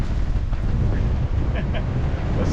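A sailboat under sail blasts through strong gusty wind, with dense roaring wind and water noise buffeting the microphone throughout and a voice faintly audible underneath.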